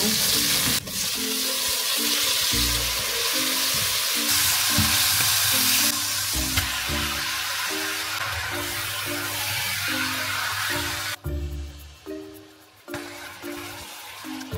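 Garlic sizzles in a hot pan for a Filipino afritada: a constant loud frying hiss with scraping stirs, close up and without speech.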